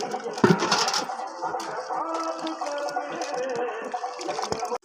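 Water is poured to soak ingredients for a chicken biryani in a home kitchen, a steady splashing and trickling stream with clinks and some background noise, fairly quiet throughout.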